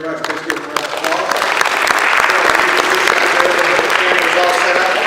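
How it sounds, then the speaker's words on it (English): A lecture audience breaks into applause after a talk, the clapping quickly swelling into a dense, loud, sustained roar that holds steady to the end. "Please give them a round of applause."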